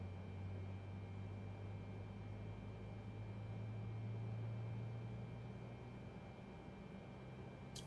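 Boeing 747-8i jet engine spooling up during start in a flight simulator, a steady low droning hum with a constant whine, holding evenly throughout with no talk over it.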